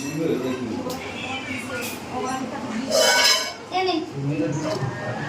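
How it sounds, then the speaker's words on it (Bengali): A metal lid set onto a rice cooking pot in a home kitchen, with brief clinks and clatter of pots and pans amid ongoing household chatter and a voice nearby. "ঢাকনাটা বসিয়ে দে, ওই হাঁড়িটা বসিয়ে দে।"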